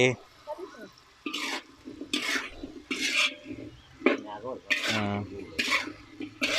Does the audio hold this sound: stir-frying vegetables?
yes